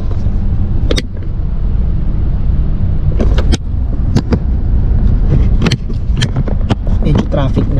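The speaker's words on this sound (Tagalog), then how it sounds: "Medyo traffic na." Cars pass on a busy highway in the early morning, a constant loud road rumble with sharp, close pass-by bursts and clicks at irregular intervals, and a voice speaks over the traffic.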